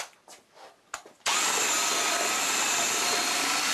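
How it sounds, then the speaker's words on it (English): A drywall compound mixer starts up after a few quiet knocks and handling sounds, then runs loud and steady as a continuous high-speed whir for the rest of the moment. "Frank's always been my champ on the mixer."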